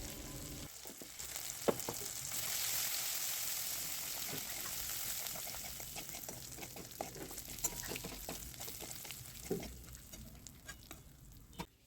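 Ginger-chili paste, salt and turmeric frying in oil, a soft continuous sizzle with intermittent crackles and stirring taps against the pan, close but low in level and without talk.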